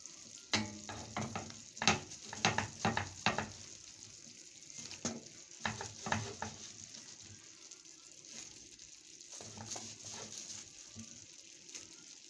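Potatoes go into a frying pan and sizzle quietly in irregular bursts of crackling and scraping, with calmer stretches of soft hiss between them.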